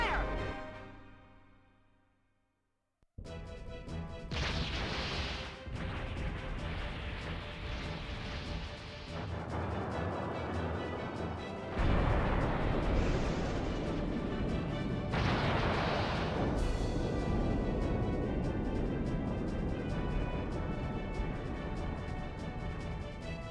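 Naval cannon fire in a battle between airship fleets in the video game Skies of Arcadia: Legends, a dense, continuous barrage of booms and crashes that begins after a brief quiet and stays loud throughout.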